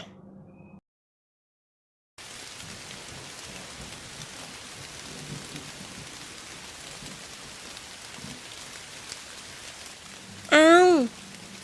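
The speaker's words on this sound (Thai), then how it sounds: "ฝนตกจริงๆด้วย" Steady rain falls in the mobile game Sakura School Simulator, starting after a brief silence as a dense, continuous hiss that lasts to the end, with a short bright tonal chirp near the close.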